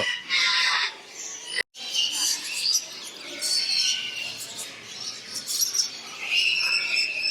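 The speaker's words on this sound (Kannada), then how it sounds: "ಇಲ್ಲಂತ ನೋಡೋ ಪಕ್ಷಿ ಕಿಲಿಪಿಲಿಗಳು ಕಿವಿಗೆ ಹಿತವಾಗಿದೆ" Several birds, including a crested bird, chirp and squawk nearby at Ramoji Film City in lively, overlapping bursts, with a brief pause before the chatter resumes and continues.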